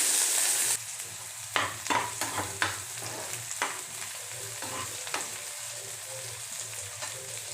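Finely chopped large onion sizzles in hot oil with mustard seeds and cumin, a steady crackling fry with scattered spatula stirring knocks throughout.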